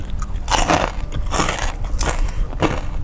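Crispy fatty pork rind is bitten and chewed close to the mouth, giving loud, repeated crackly crunches in an uneven rhythm and no talking.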